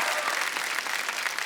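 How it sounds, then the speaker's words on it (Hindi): Studio audience on a Hindi comedy talk show applauds for Sunny, a dense, steady wash of clapping that holds evenly from start to finish without a break. "सनी के लिए जोरदार तालियां हो जाए"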